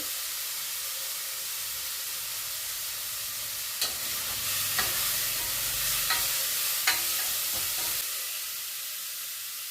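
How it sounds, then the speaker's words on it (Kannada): Sambar ingredients fry in a pan with a steady close hiss and sizzle, broken by several sharp spatula scrapes and knocks against the pan as they are stirred; nobody speaks. "ನಾನು ಅಷ್ಟೇ ಎಲ್ಲನೂ ಚೆನ್ನಾಗೇ ಫ್ರೈ ಮಾಡ್ತೀನಿ"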